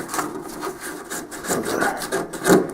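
Old primer scraped off by hand with a dull knife blade, a dry rasping rub repeated in several short strokes at close range with no talking.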